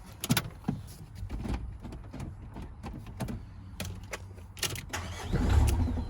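Diesel van engine, a 2014 Vauxhall Vivaro 1.6 CDTI sold as spares or repair, cranks in repeated rhythmic bursts for several seconds before catching and firing into a louder running roar near the end.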